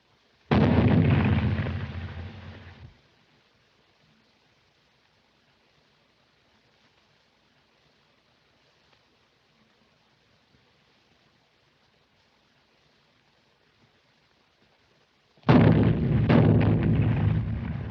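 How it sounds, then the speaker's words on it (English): Two heavy, booming bursts like distant cannon fire, one at the start and one near the end, separated by a long stretch of near silence. "Do you hear those cannons?"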